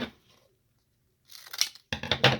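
Scissors cutting a paper card in two, a brief faint snip followed by two bursts of crisp close cutting, with quiet pauses between them.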